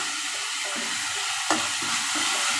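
Ripe medium tomatoes sautéing in a pan with ginger-garlic paste, giving a steady sizzle with the scrape and clatter of stirring and one sharper knock near the middle, close by and without talk.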